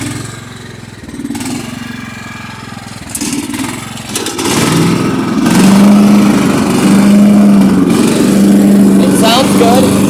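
A Craftsman lawn tractor engine with a fixed-jet carburetor runs steadily while mowing, its loud droning hum rising and holding as the machine works nearby, with a voice speaking over it.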